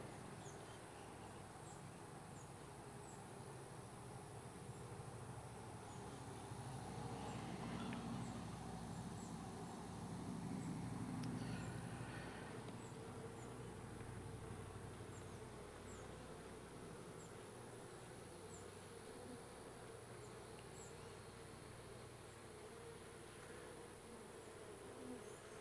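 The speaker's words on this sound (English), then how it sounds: "There's a lot of bees on this frame." Honey bees buzzing on a mini mating nuc frame during a queen check, a dense, continuous hum of many bees close by that swells briefly in the middle.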